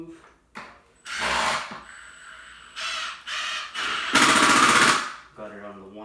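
A Milwaukee 2853-20 impact driver drives a bolt into concrete, hammering in several loud, rapid bursts of rattling impacts separated by short pauses, with brief talk between bursts.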